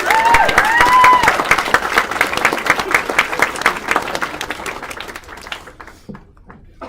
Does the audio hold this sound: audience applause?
yes